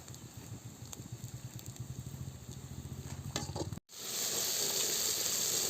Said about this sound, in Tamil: பாருங்கள், வெங்காயம் வதங்கிட்டு இருக்கு.